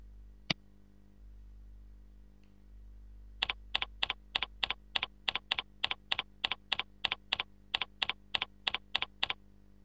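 Keys clack on a computer keyboard while an email server name is typed: a single early tap, then a steady run of about eighteen crisp, evenly spaced keystrokes, close and clear over a quiet room hum.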